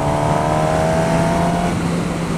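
A Suzuki GSX-S1000 motorcycle pulls hard in sixth gear, its engine a loud, steady, close drone with a rising tone and rushing wind, with no talk over it.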